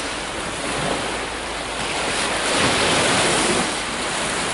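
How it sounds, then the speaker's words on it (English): Ocean surf rolls in under strong wind by the sea, a loud, constant wash of broadband noise that swells slightly partway through, with no voices. "that's what the ocean looks like where we are right now"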